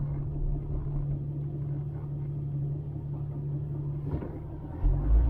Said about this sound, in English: We're going to drive right straight through downtown Athens on Highway 78.